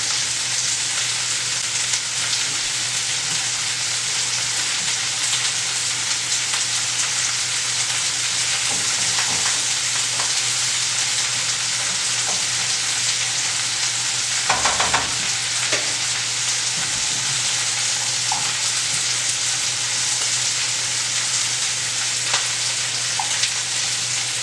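Salmon, quinoa and asparagus frying in a pan, a steady sizzle with a constant hum underneath and occasional stirring clatter, no talking.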